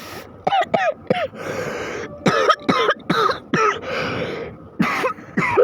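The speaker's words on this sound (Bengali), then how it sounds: "কাশি চলে এসেছিলো" Harsh coughing close to the mic comes in about a dozen sharp fits, some in quick clusters, with brief breathy gaps and throat-clearing noises between them.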